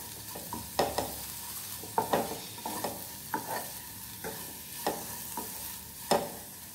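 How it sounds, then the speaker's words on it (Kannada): Mixed vegetables and paneer are stirred in a pan, with rhythmic spoon scrapes roughly every half second over a faint background sizzle. "ಎಲ್ಲ ತರಕಾರಿ ಪನೀರ್ ಎಲ್ಲ ಅಲ್ಲಿವರೆಗೆ ಮಿಕ್ಸ್ ಮಾಡ್ತಾ ಇರಿ"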